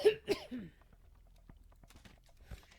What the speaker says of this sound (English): I'm coughing all damn night because of this.